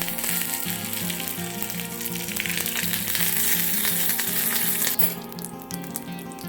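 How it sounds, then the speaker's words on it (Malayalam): Mustard and fenugreek seeds splutter in hot oil in a small pan, a dense, continuous crackling sizzle with rapid pops throughout, close and loud, no voices. "ഒരു കുഞ്ഞൻ ചട്ടിയിലേക്ക് എണ്ണ ഒഴിച്ച് അല്പം കടുകും കുറച്ച് ഉലുവയും ഇട്ടൊന്ന് പൊട്ടിക്കാം"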